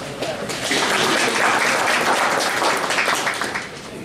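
An audience at a Hartville Hardware table saw seminar applauds to welcome the presenter, with dense, steady clapping that holds for about four seconds and no talking over it.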